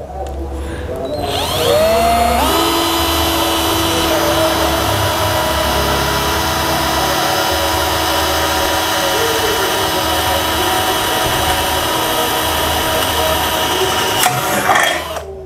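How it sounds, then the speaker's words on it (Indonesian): A DCK KDJZ1202 12V cordless drill with its stock bit whirs steadily at close range, starting up after a second or two and running continuously before winding down near the end. "langsung saja kita menggunakan mata bor bawaan dari DCK"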